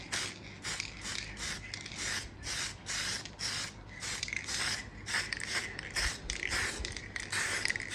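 Short bursts of spray paint hiss from a can onto a 1/10 scale Mustang model body, several quick sprays in an uneven rhythm, fairly quiet and close.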